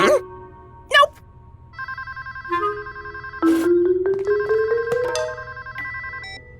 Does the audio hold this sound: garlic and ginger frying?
no